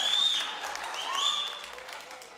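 A live comedy show crowd cheers for Joe Becker with applause and shrill, rising whistles, moderately loud and fairly close, easing off toward the end.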